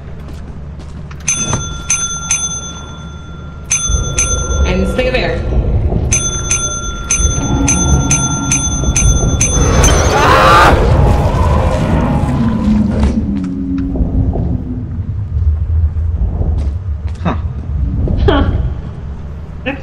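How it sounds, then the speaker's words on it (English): A small bell in a video game is rung rapidly over and over in two bright bursts of repeated dings, with several people talking casually over and after it. "Now you have to ring the bell."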